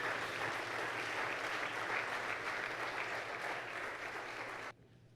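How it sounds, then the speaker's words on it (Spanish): Sustained applause from a church congregation, steady and fairly distant, clapping continuously before stopping abruptly near the end. "Dele palmas al Señor."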